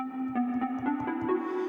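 Short synth plucks from the Anna 2 synthesizer repeat in a steady pulse over a sustained tonal pad, each note bright and clean, with no voices present.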